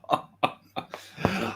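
A man coughs several times in quick succession, close and loud, ending with a rougher hacking burst, no talking.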